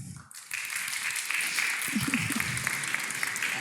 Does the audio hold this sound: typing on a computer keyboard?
no